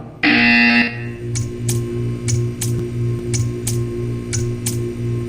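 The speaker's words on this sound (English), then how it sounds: "You will hear a buzzer. When you hear the buzzer, stare at the art." A loud electronic buzzer in the video game Portal 2 sounds for under a second, then gives way to steady, evenly spaced ticking over a low hum.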